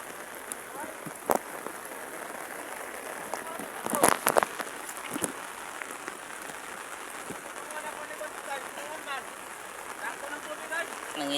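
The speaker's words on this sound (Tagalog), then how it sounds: "Nagpaulan-ulan." Steady rain patters on surfaces during a flood, a dense even hiss with occasional louder drops and brief clatters, while voices talk faintly in the background.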